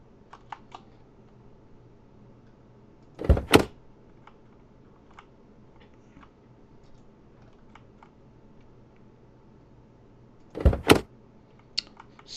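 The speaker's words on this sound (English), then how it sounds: "So many doors." Doors opening and closing in the horror video game Kuro Oni: two sharp clattering bursts about seven seconds apart over a quiet hum, with a few faint clicks scattered between them.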